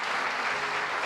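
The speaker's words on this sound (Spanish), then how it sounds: "Y dale un aplauso al Espíritu Santo de Dios." A congregation applauds in a church service, a dense, even wash of clapping lasting about a second.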